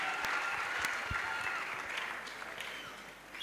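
A congregation at an outdoor evangelisation crusade breaks into brief, dense applause and cheering, fading slightly toward the end, with voices mixed in.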